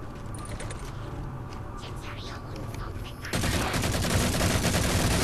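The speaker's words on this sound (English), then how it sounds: "I love the sound of the freaking battle rifle" Battle rifle fire in the Halo 4 co-op campaign, with rapid, dense bursts that grow suddenly louder partway through, set against game background noise.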